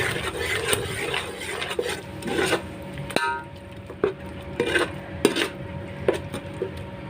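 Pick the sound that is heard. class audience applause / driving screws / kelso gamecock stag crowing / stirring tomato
stirring tomato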